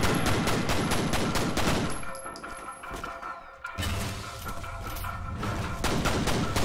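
Enemy gunfire rattles in the video game FEAR: Extraction Point: dense, loud automatic bursts that briefly thin out midway before the heavy shooting resumes.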